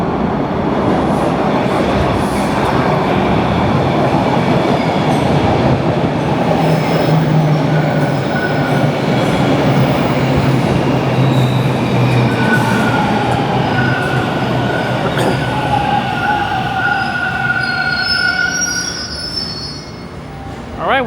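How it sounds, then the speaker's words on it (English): Eastbound subway train on Toronto's Line 2 at Christie Station screeches with loud, sustained wheel squeal over a rumbling rolling roar, close at the platform, fading slightly near the end. "That was an eastbound train."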